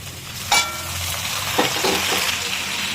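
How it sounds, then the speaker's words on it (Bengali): Eggplant frying with chopped tomato for baigan bharta gives a steady close sizzle, broken by a few sharp scraping stir clatters from spoon against pan. "এটাকে এর সাথে ভালো করে ভাজতে হবে তেল ছাড়া অবস্থা পর্যন্ত"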